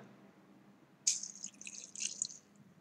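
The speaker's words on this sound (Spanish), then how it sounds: "dejaremos caer un chorro de agua" A stream of water is poured into a jar, starting abruptly after a second of quiet and continuing as a bright, splashing trickle for about a second and a half before tapering off.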